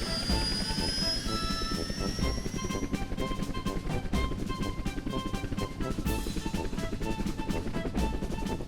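A helicopter drones steadily with a chopping engine roar and whining tones, loud and continuous throughout.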